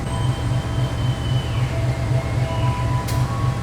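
Kahuripan passenger train departing Lempuyangan station at night, a low steady rumble of rolling wagons with a faint metallic squeal and a brief high screech near the end.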